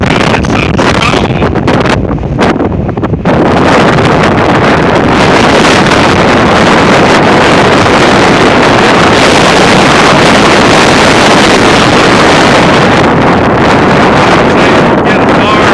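A strong Oklahoma windstorm with gusts of 40 to 60 mph roars steadily outdoors, buffeting the microphone with loud, continuous rushing noise and heavy wind distortion that never lets up.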